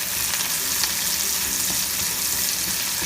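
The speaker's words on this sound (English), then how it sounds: "Then you put the green pepper." Chopped green pepper hits a hot pan with garlic and sizzles loudly, a dense continuous hiss of frying broken by the scrape of stirring, close up with no talking.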